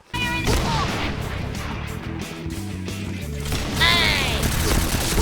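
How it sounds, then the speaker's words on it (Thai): Rapid AK rifle fire in the online shooter Point Blank, a dense continuous burst of loud close gunshots with game effects over a busy battle mix, while a player talks throughout. "โดนเอเคซัดอย่างแรงอ่ะ"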